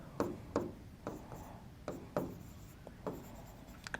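Chalk or marker strokes on a board during a number theory math lecture, a series of short, soft taps and scratches at an irregular pace, close and faint, with no talking.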